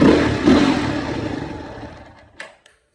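A dirt bike in Nepal, blowing white smoke and starting poorly, gives a short sputtering engine burst that fades out within two seconds, followed by a couple of faint clicks.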